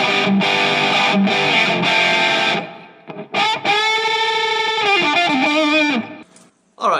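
Electric guitar runs through an ENO Music Classic distortion pedal set for an 80s hair-metal tone: loud, gritty strummed chords, then a sustained ringing chord with bends, ending in a quick stop.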